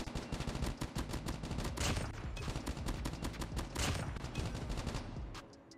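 Gunfire from the mobile game Call of Duty Mobile crackles in rapid, dense bursts of sharp shots, loud and sustained for several seconds before tapering off at the end.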